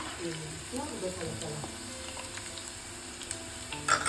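Food sizzles and fries softly in a pan while pickle is being made at home, a steady low crackle with faint stirring and background voices murmuring throughout.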